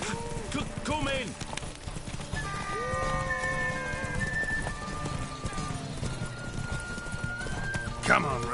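Horse in The Witcher 3 gallops with rapid clip-clop hoofbeats and neighs, mixed with game music and spoken voices throughout.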